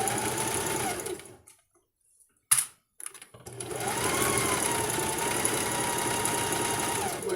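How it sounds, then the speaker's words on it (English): A sewing machine stitches a pocket piece onto a Halloween garment, humming in a loud, steady whir with a brief stop and a couple of clunks in the middle before it runs on again. "Where I am now sewing on a pocket."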